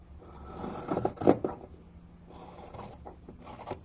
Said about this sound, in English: I'm just going to cut off that seam allowance a little bit on those two pieces.